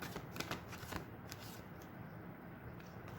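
Tarot cards being shuffled by hand, a quiet, close riffling and flicking of the deck in several quick bursts, loudest early on, with no talk over it.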